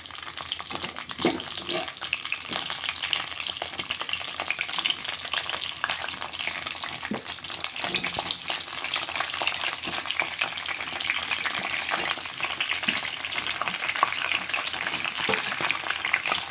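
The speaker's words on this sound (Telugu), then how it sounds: "ఫస్ట్ ఇలా వంకాయలు అయితే ఫ్రై చేసుకుంటాను నేను" Cut brinjals fry in a little oil in a pan for a stuffed brinjal masala, giving a steady, dense sizzle throughout with light stirring noises and no talking.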